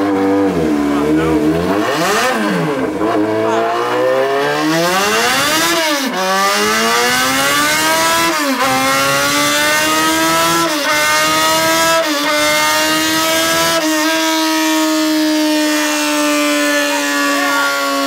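A Yamaha XJ6 motorcycle engine is started and revved repeatedly, the pitch rising and falling in several loud sweeping surges before settling into a steady higher idle, close and continuous.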